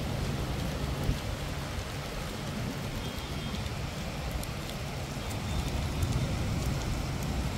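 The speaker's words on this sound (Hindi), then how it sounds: "बाहर देखो कितनी ज़बरदस्त बारिश हो रही है और ऊपर ये बिजली भी कड़क रही है" Heavy rain pours down in a dense, unbroken hiss during a thunderstorm, staying loud and steady throughout, with no voices.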